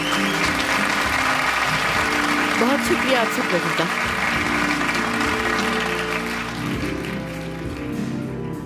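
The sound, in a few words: applause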